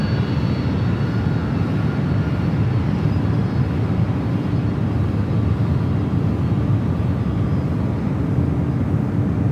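Steady low engine rumble of a Delta airliner taxiing at San Francisco airport before a flight to JFK, continuous and moderately loud with no break.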